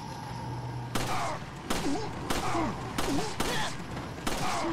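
Pistol shots ring out in Resident Evil 4, five or six loud, sharp reports spaced roughly evenly, with short in-game sounds between them.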